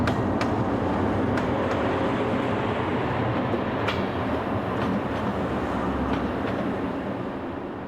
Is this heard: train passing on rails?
yes